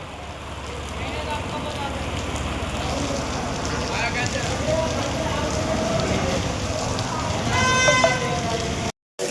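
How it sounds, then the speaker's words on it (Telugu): Steady, continuous rain falls outdoors during a Ganesh Chaturthi outing, a dense hiss that holds for the whole stretch with voices and bustle mixed in before a brief cutoff near the end. "వర్షం కంటిన్యూగా ఒక గంట నుండి నిజంగా వర్షం పడుతుంది"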